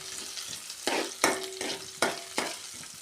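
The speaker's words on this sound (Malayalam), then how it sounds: "ചതച്ച് വെച്ച ഇഞ്ചിയും വെളുത്തുള്ളിയും കൂടെ ചേർത്ത് കൊടുത്തിട്ടുണ്ട് അതൊന്ന് ചെറുതായിട്ട് മൂത്ത് വരട്ടെ" Crushed ginger and garlic fry in hot oil for a beef curry, a steady close sizzle broken by rhythmic scraping strokes of a spoon against the pan.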